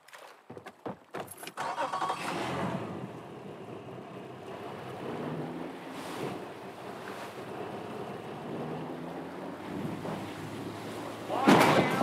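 A boat engine in the video game Far Cry 5 turns over and settles into a steady running drone beside water, with a few sharp clicks at the start and a burst near the end.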